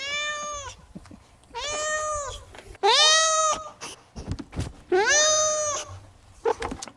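A kitten named Tartuffe gives four long rising meows, loud and close, with short gaps between them and brief bits of background noise in the pauses.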